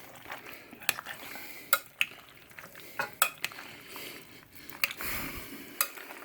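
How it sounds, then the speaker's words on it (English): Potato salad being stirred with a stiff tablespoon in a bowl, a soft wet churning broken by sharp clinks of the spoon against the bowl's side at irregular intervals. "And then we just mix all that together."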